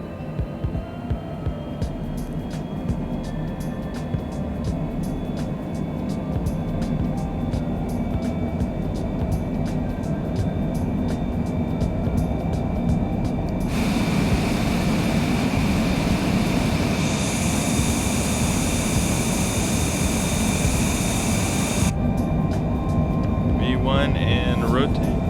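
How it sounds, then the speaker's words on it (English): Airliner engines at takeoff power during the takeoff roll in Microsoft Flight Simulator 2020, a loud steady roar with a rising whine, accompanied by rhythmic clunks of runway bumps. "Takeoff power is set."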